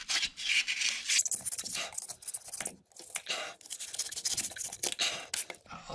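XPS foam insulation board being trimmed for a breezeway project, a close, steady run of rough scraping and rasping strokes with brief gaps between cuts.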